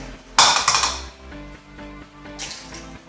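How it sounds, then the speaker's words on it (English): A couple of sharp cracks and clinks against a bowl, followed by soft wet splatting as eggs drop in, with a faint background hum. "We're going to crack the eggs."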